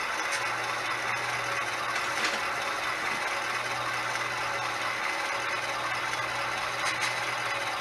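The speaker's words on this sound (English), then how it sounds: "And here comes the 45-ton GE side rod" A 3D printed HOn3 GE 45-ton side-rod boxcab diesel model locomotive with DCC sound gives a steady, low idling engine drone with a faint rattle. It runs alone, at moderate loudness, throughout.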